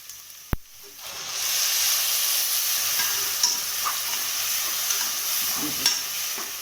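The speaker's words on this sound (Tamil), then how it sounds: "இப்போ தக்காளி பேஸ்ட்டு அதில் போட்டுக்கலாம்." Tomato paste hitting a pan of softened onions and curry leaves for a spicy chickpea and potato gravy: a sharp knock, a brief lull, then a loud, steady hissing sizzle with scattered small pops.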